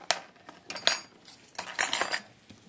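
Tiny spoons, a small glass and little bowls from a mini toy kitchen set clink and rattle together in quick uneven bursts, close and bright, with no voices.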